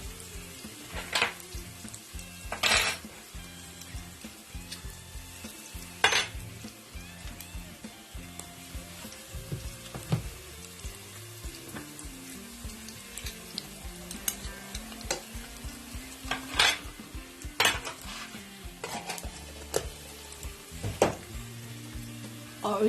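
Two tablespoons of Carrygold butter melting in a pan on a low flame, a soft steady sizzle with occasional stirring scrapes and light utensil clicks, close and alone with no talk.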